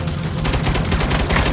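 Continuous loud automatic gunfire from a Saints Row game firefight, rapid dense bursts running throughout without pause, close up.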